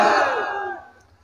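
A large crowd at a Bengali religious gathering shouts the takbir response together, one loud sustained massed cry that fades away over about a second.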